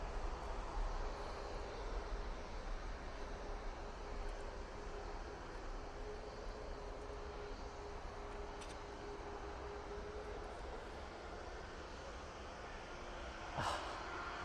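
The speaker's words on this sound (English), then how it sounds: "A330 going off to Orlando now." An Airbus A330 taking off at Manchester Airport, heard as a steady, broad jet-engine roar that holds constant and moderately loud throughout, with no voices over it.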